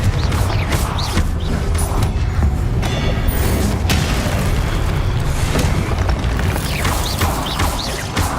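A Confringo blast spell explodes in Hogwarts Legacy, a loud, dense, continuous roar of booming bursts and crashing rumble that lasts throughout without pause.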